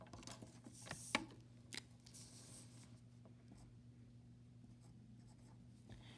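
A math answer is written down by hand: faint, brief scratching strokes in the first couple of seconds, then near quiet with low room hum.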